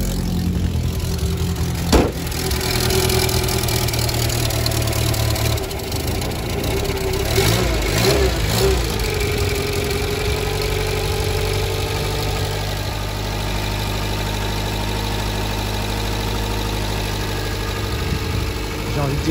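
A car engine idles steadily just after starting, a close, continuous low rumble with a faint knocking undertone, while someone talks intermittently over it.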